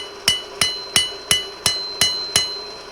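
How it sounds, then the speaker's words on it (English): A small hammer strikes hot rebar on an anvil seven times while forging a tent stake, in a steady, even rhythm, each blow a sharp ringing clink, close up with no talking. "I'm going to use the small hammer and smooth it out."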